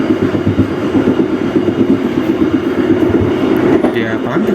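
Bengawan passenger train rolling on rails, heard from inside as a loud steady rumble with rhythmic wheel clatter and a faint squeal near the end, continuous throughout.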